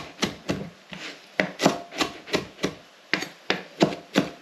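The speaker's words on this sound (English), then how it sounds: "I'm just going to quickly roughly chop some parsley." Fresh parsley being roughly chopped with a knife on a board, a brisk series of sharp, close thuds in an uneven rhythm, about a dozen strikes, with no talking.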